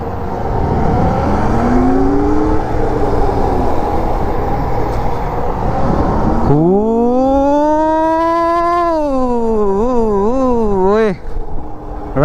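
A Yatri P1 electric motorcycle is ridden hard, its motor whine rising in a smooth glide and then warbling up and down as speed shifts, loud and close over a rush of wind.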